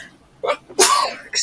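A single sharp human sneeze during a live jewelry auction, preceded by a short intake of breath and followed by a brief voice.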